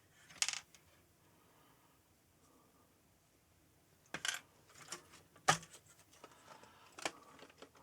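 A loose object rattles and clinks inside the case of a grey ZX Spectrum 128k +2 computer, in a few short, sharp bursts separated by near silence, close and fairly quiet.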